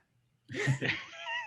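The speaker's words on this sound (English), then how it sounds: "Excuse my cat." A pet cat meows close by, a single drawn-out, wavering call lasting about a second after a brief quiet start.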